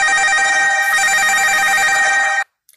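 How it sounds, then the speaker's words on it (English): A phone rings with an incoming call, its bright electronic tone sustained loudly up close for about two and a half seconds, then stopping sharply and leaving silence. "I keep getting a phone call"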